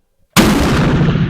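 A single loud, close gunshot from an 1886 Mannlicher rifle fired outdoors, a sharp crack after near silence that trails off into a long, rumbling decay.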